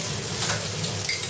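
Salmon searing in a frying pan, a short, even hiss of sizzling fat, steady and close, with no talk.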